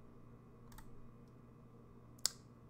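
A computer mouse gives a few faint, close clicks, with one sharper click near the end, over a quiet room hum.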